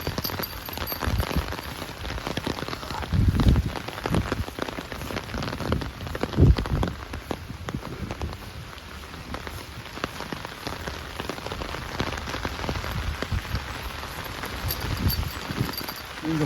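Steady rain patters on the ground on a wet day out walking dogs, a continuous close hiss of drops with a few heavier splashes and thuds, no voices.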